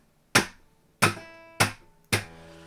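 Four sharp, percussive gypsy rumba guitar strums with the left hand off the strings, each a crisp attack ringing open and decaying quickly, spaced unevenly about half a second apart, close and alone.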